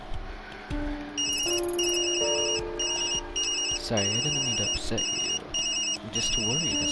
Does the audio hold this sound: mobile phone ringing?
yes